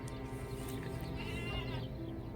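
A goat bleats in the Saudi Arabian desert, giving one drawn-out, wavering cry close by. Low steady background noise continues underneath.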